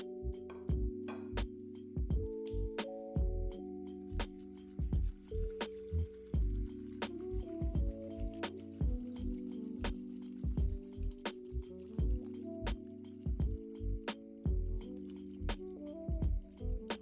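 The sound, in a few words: washing cut potato pieces in a bowl of water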